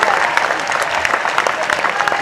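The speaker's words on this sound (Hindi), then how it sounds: "थोड़ा और जोर से ताली बजा दीजिए।" Audience applause at a Hindi poetry recital: steady, close crowd clapping that holds at a constant level throughout with no pauses.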